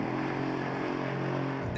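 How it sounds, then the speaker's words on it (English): Engine of an Audi RS6 or Mercedes E63 AMG performance car, a steady droning hum held at constant pitch for under two seconds, with no voices over it. "It does sound great, that engine, though, doesn't it?"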